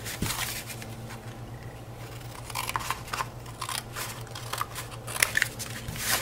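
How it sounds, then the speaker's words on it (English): Scissors make diagonal cuts along score lines in cardstock for a shadow box, giving repeated crisp snips and crunches with light paper rustling in between. "cut down the two score lines, diagonal cut"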